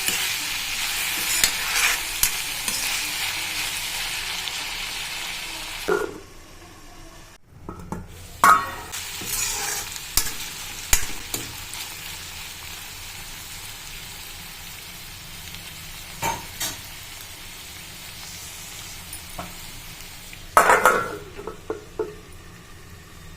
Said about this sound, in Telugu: ఇలా కలుపుతూ మధ్య మధ్యలో మూత పెడుతూ తీస్తూ కలుపుకోవాలండి